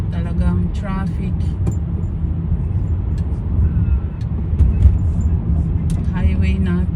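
Rush-hour highway traffic in San Diego rolls past as a steady low rumble of cars and larger vehicles, heard from inside a vehicle with a voice talking over it at times.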